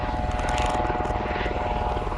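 Nearby helicopters flying over a market garden on the coast, a loud steady rotor drone with rhythmic blade chop filling the whole moment, no voices.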